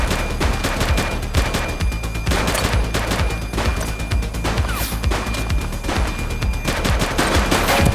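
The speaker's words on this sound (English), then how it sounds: "He's shooting!" Dense, continuous gunfire fills the scene in the PS5 police game The Precinct, with rapid overlapping shots and bursts that stay loud and close throughout.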